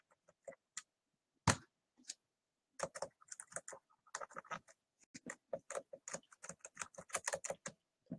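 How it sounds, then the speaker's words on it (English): Sharp computer mouse clicks, close and fairly quiet, come singly at first and then in a fast, irregular run of taps with short gaps between them. "Yes, I'm clicking on the finish."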